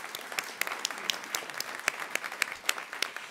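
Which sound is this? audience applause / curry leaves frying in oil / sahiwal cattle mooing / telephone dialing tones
audience applause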